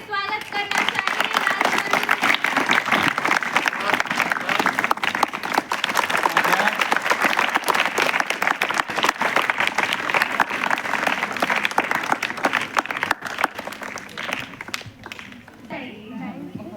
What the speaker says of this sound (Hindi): अपने मंच की शोभा बढ़ाते हुए हम जोरदार तालियों से स्वागत करना चाहेंगे